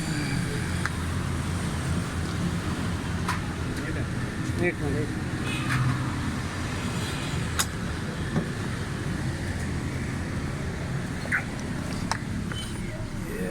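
Toyota Corolla GLI engine idling steadily with a low, even hum throughout, someone talking over it now and then.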